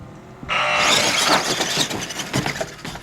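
Retro Renegade RC monster trucks race side by side in a battle-of-the-monster-trucks event. Their small electric motors give a loud, steady, high-pitched whine that surges and wavers as they accelerate.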